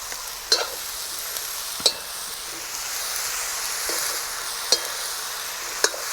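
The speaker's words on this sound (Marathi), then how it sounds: "बघा फोडणी किती छान करकर आवाज येतोय फोडणीचा" Tempering spices crackle and sizzle in oil on a wood-fired chulha stove. A steady hiss runs throughout, broken by a few sharp pops and light stirring knocks.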